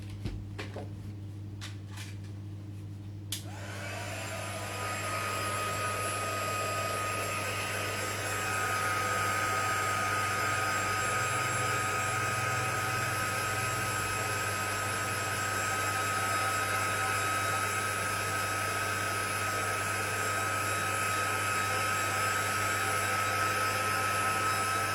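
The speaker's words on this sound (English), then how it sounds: "let me give that a quick heat set" A few faint clicks come first, then a heat tool switches on and blows a steady, loud whirring rush while heat-setting ink on a handmade floral card. The tone holds evenly for about twenty seconds.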